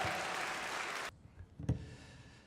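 Church congregation applauding to welcome a visiting professor, a thick burst of clapping lasting about a second before cutting off abruptly, followed by faint scattered knocks and near silence.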